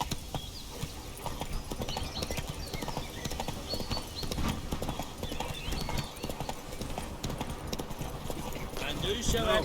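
Hoofbeats of Roach, Geralt's horse in The Witcher 3, pound in a steady running rhythm throughout, close and fairly loud, mixed with game ambience while someone talks over them.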